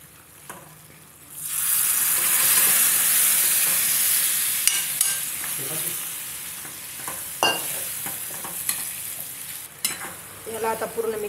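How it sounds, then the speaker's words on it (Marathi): Mutton dropped into hot oil for a Maharashtrian mutton sukka, a sudden loud sizzle that settles into steady frying, broken by repeated spoon scrapes and clinks as the meat is stirred. "आता आपण याच्यात मटण टाकून घेऊया।"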